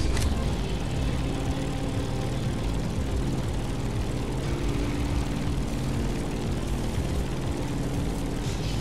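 Propeller airplane in flight during a scenic tour over Oahu, Hawaii, in the racing game Motorfest, a loud steady engine drone and buzzing airscrew filling the whole stretch, close and continuous.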